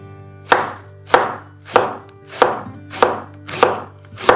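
A knife slices a big onion into thin, long strips on a board, striking in seven crisp, evenly spaced chops over a low steady hum, with no talking.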